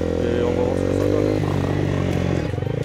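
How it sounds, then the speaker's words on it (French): A Honda CBR 125 motorcycle rides along with a steady buzzing engine drone at close range that shifts pitch midway, heard under wind and someone talking. "Franchement, ça c'est une moto qui marche pas mal quoi."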